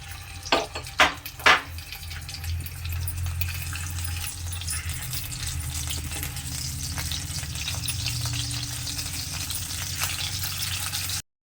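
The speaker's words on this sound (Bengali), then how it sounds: "এখন আমি মাছের মাথাটা তেলের মধ্যে দিয়ে ভেজে নেব" A fish head fries in hot oil for a Bengali muri ghonto, giving a steady close sizzle with a few sharp pops and spatters near the start, then a constant crackle with no voices.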